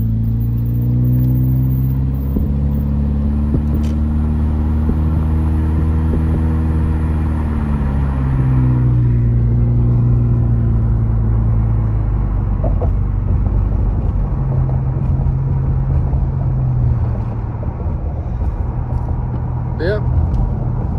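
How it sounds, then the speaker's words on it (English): A car driving across the Big Bear Dam at Big Bear Lake, California, a steady close engine and road rumble with a shifting low hum throughout, at a constant loud level. "We're driving right over it right now."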